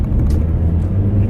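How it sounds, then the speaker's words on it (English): A car that is acting up while being driven, a close, loud low rumble of the engine and road noise that holds steady for a moment with no talking. "My car is kind of acting funny, y'all."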